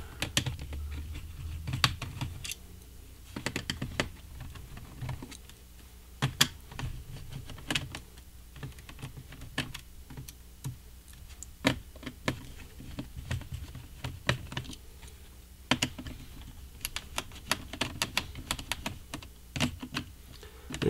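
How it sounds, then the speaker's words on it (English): Small silver screws are worked out of an HP dv9000 laptop with a small screwdriver, giving a steady stream of close, light clicks, ticks and scraping taps on the plastic case, with no talking. "Now we're going to remove the 6 small silver screws that were underneath the battery."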